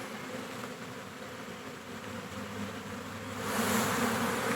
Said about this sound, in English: We did have some bees up there.